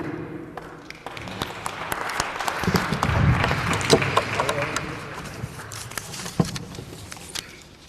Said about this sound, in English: Another round of applause for the